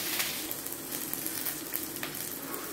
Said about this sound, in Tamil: பூண்டு ஒரு 10 பல் பூண்டு சேர்த்துருக்கேன், அதை வதக்கலாம்